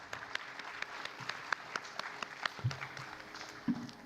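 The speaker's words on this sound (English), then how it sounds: "please get another round of applause for Kavya?" Faint, distant applause for a Bharatanatyam dancer at her arangetram, scattered claps pattering lightly over quiet room noise with a few sharper hand hits standing out.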